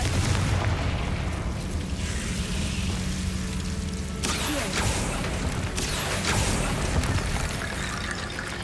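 A Confringo fire spell in Hogwarts Legacy blasts in a rumbling, roaring burst of fiery noise that runs almost without pause, loud and close with deep low-end weight.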